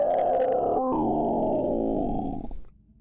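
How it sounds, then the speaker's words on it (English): A sorrowsworn monster cries out in a tabletop fantasy sound effect, a loud, sustained guttural groaning roar lasting about three seconds that fades at the end. "This is the sound of a sorrow sworn."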